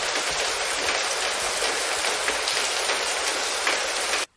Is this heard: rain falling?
yes